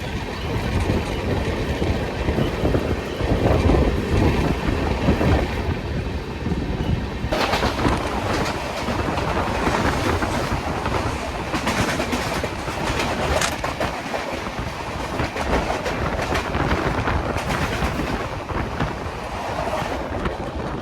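Two trains pass each other on the Prasanthi Express route between Visakhapatnam and Palasa, a loud continuous roar of rushing wheels and rattling carriages with a sharp surge midway as the other train sweeps by, heard from inside a moving coach.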